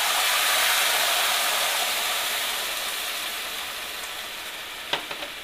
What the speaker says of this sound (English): so now that the rice took about a minute to toast, I'm adding white wine,